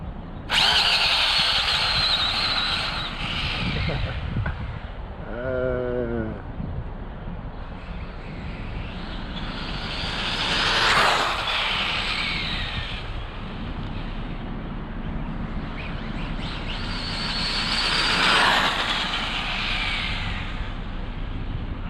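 Hobao Hyper 9E electric RC buggy speeding across a parking lot, a continuous broadband motor whine and rolling rush that swells in two loud passes, with a brief buzzy rattle early on and no talking.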